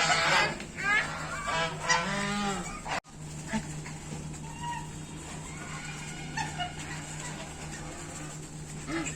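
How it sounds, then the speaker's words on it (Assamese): A flock of geese honks loudly and repeatedly, overlapping calls close by, with a steady low hum underneath and busy outdoor noise throughout. "দেখিছা কিমান হাঁহ আহিছে?"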